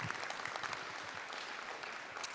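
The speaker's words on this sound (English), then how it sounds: "let's give them a round of applause." Steady applause from an audience honoring coaches at a girls' state track and field championship homecoming, a dense even clapping that fills the space without letup, no voices standing out.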